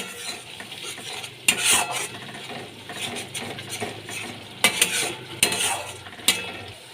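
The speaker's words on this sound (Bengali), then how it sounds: "এক চামচ জিরে গুঁড়ো দিয়ে দিলাম ভালো করে কষিয়ে দিচ্ছি" Ground spices (turmeric, Kashmiri chilli and cumin powder) being sautéed and stirred in a pan for a cauliflower, potato and raisin dish: a steady close sizzle with scraping spatula strokes and sharper clinks at intervals.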